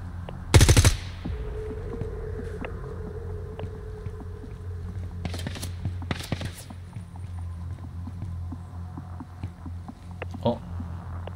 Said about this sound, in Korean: 소음기 총소리가 났는데?